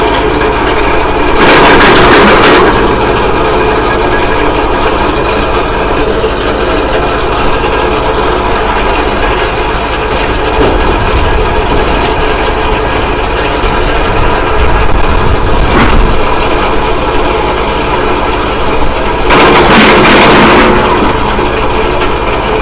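Gorynych log splitter driven by an MTZ-80 tractor runs steadily at a loud, constant drone, with a louder broadband burst near the start and another near the end, plus a brief thump midway.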